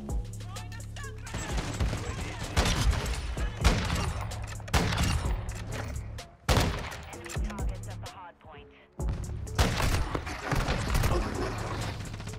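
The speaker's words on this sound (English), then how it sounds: "What was that? A shotgun from that far?" Heavy gunfire in a Call of Duty Modern Warfare II multiplayer match, including shotgun blasts: loud, close shots in dense bursts with sharp drops to near silence between volleys, game sounds layered throughout.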